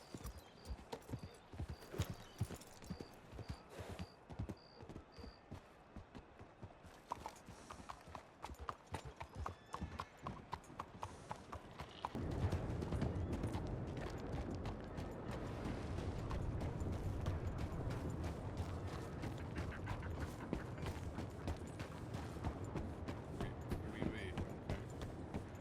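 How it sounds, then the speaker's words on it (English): Horse hooves clip-clopping in a Red Dead roleplay video game while riding, a steady rhythmic clatter of footfalls that turns to a denser, rougher gallop-like rumble partway through, with voices talking over it at times. "We're going to be riding on Luke's horse"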